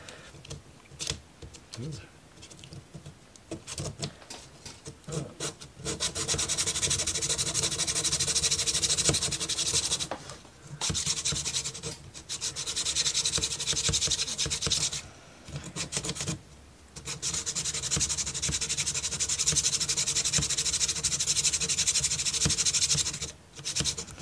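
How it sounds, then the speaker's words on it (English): Close, rough scratching and rubbing of sanding on small hard ROKR marble run parts, continuous with brief pauses, under occasional quiet talk. "let's see if I can do some sanding on these."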